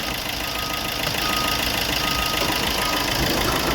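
A 1.3 Multijet diesel engine runs at a steady idle, a constant close, even rumble with a faint clatter and no change in pace or level.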